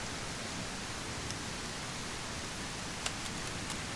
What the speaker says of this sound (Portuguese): Tinha que vir essa chuva